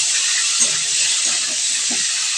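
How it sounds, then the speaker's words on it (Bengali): Cauliflower florets frying lightly in oil for a vegetarian curry give off a steady, bright hiss that holds evenly throughout, with a few soft low bumps beneath it and no voices. "কফিটা একটু হালকা করে তেলে ভেজে নিচ্ছি"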